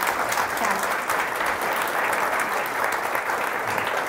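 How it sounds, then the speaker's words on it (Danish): Sustained audience applause at a book café event with author Sara Blædel, a full even wash of clapping lasting several seconds with no talking. "Den klapper vi lige af"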